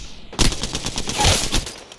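Burst of rapid gunfire from the battle royale game Apex Legends, several sharp close shots in quick succession, loud and alone without voices.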